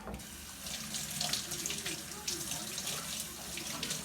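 A kitchen tap runs steadily into a sink while slices of beef are rinsed under it, with a continuous splashing rush and small irregular spatters, close and moderately loud, and no voices over it.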